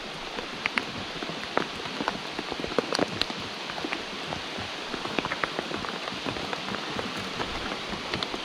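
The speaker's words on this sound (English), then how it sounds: "Boy, it's raining, guys. Raining like crazy." Rain falling during a fishing trip, a steady patter of drops striking nearby surfaces with sharper close splats scattered throughout, moderately quiet and without talk.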